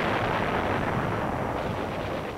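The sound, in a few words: American artillery shelling in Manila, 1945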